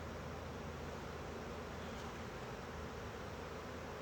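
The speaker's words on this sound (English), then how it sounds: "that's a lot of bees." Dense, steady buzzing of many honey bees rises from an open beehive, a close, continuous drone without pause or talk.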